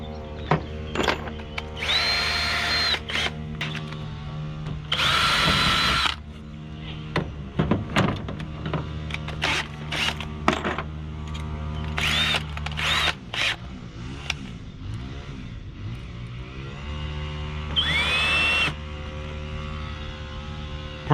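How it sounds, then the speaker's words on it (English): A power drill whirs in repeated bursts as it bores holes through scrap wood, each run a few seconds long, with short pauses and handling clatter between. "get a scrap piece of wood, drill the hole into that first"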